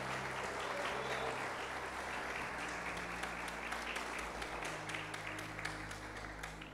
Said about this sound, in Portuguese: Dê uma salva de palma a Ele.